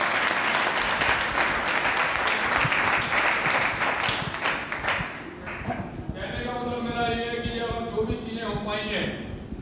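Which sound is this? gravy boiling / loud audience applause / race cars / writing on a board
loud audience applause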